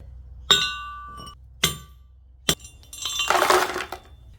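Quartz rock being stamped and crushed on a goldfield: three sharp separate impacts with gritty cracking, followed by a longer grinding crunch of broken stone, close and loud.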